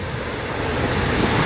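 Piper Cub light aircraft on a steep approach, its engine giving a steady, loud broadband drone with wind rush that holds even throughout, with no speech over it.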